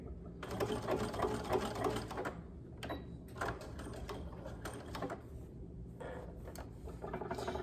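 A sewing machine runs in long, steady bursts while stitching an elastic waistband into fabric, with brief pauses between the runs. The whirring is close and loud, and no one talks over it.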